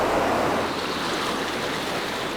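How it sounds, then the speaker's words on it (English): A large, fast river rushes through the inside of a huge cave, hundreds of meters from daylight, making a loud, steady roar of churning water with no pauses or voices. "a large and fast river now flows through the cave"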